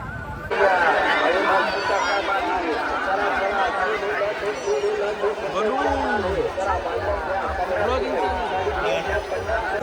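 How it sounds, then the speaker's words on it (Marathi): A dense crowd at the Thapling temple yatra fair in Maharashtra fills the air with steady close chatter and babble, many overlapping voices around, with a short brighter whoop rising over the hubbub. "यात्रेला गर्दी बघा, एवढीच गर्दी दरवर्षी."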